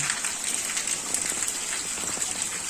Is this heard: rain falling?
yes